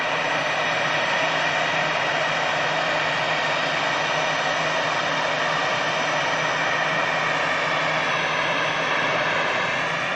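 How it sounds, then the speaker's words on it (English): Airliners, including an EasyJet jet and a Cathay Pacific aircraft, taxi and depart at Manchester Airport, making a continuous broad engine roar that stays loud and steady throughout, with no voices. "Here's a Cathay Pacific coming round the corner."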